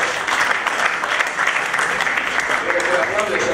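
Sustained applause fills a prize-giving ceremony for a football club, a dense, steady wash of many hands clapping at full volume throughout, with no break.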